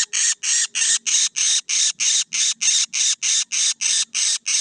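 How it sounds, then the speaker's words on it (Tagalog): Birds squawking close by in the Philippines, a loud, harsh call repeated about fifteen times in an even, rapid rhythm with brief gaps between each squawk. "Lumapit yung mga ibang ibon,"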